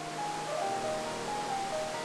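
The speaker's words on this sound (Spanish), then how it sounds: "En la cascada, el agua cae desde unos 60 metros salpicando y produciendo sonidos al golpear violentamente." Amidagataki waterfall in Gifu, Japan, near the Nagara River, with water dropping about 60 metres and splashing hard: a steady, broad rushing roar that holds at an even level throughout, with no voices.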